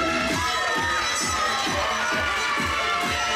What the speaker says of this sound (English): The crowd sure loves Randy